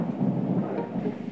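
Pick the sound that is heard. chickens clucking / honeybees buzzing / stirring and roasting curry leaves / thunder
thunder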